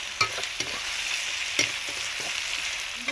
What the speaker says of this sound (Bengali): ভালোভাবে এর সঙ্গে সব মশলাগুলো আমি ভেজে নেব